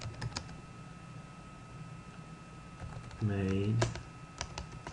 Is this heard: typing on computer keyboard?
yes